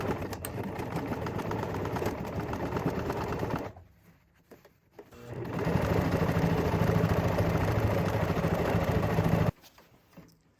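A sewing machine stitches a seam on a denim jean jacket, running in a steady whirring burst, pausing briefly, then running again for several seconds before stopping, close and loud.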